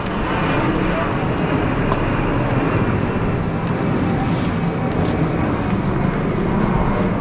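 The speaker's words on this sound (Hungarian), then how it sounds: "Azért ez a repülő állandóan bezavar." An airplane flies overhead near the German houses of Kettwig, a loud steady low roar filling the scene with wind buffeting the microphone, while people talk beneath it.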